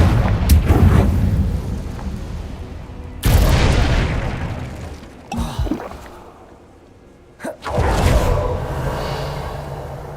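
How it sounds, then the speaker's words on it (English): Confringo spell blasts in Hogwarts Legacy land as several heavy booming explosions, each a sharp loud burst with a rumbling tail, spaced a couple of seconds apart with quieter gaps between. "Confringo!"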